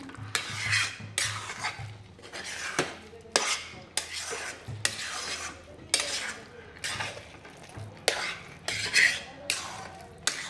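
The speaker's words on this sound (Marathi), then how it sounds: "पुन्हा एकदा छान सगळं असं मिक्स करून घेऊया." Grated carrot halwa being stirred in a pan, regular rhythmic spoon scrapes and soft clinks about once a second, with a faint sizzle underneath, close up and no talking.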